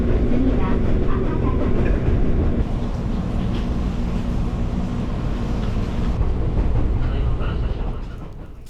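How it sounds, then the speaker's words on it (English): A Fujikyu Railway commuter train painted in Thomas the Tank Engine themes passes on the tracks in Japan, a loud rumbling roll with wheel clatter that fades at the end. "Here's a crossing with another train, this one painted in Thomas the Tank Engine themes."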